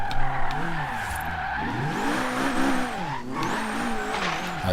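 A Jägermeister-liveried BMW M3 E30 drifts in Forza Horizon 3. The engine revs rise and fall in waves under continuous high tire squeal, loud and close, with no voices.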